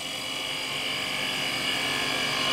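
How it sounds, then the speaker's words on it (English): A spindle gouge cuts into spinning wood on a lathe, giving a steady, loud, high whine that builds slightly as the tool rolls in and engages the wood. "I'm rolling the tool so I can tell that it starts to pick up or engage the wood"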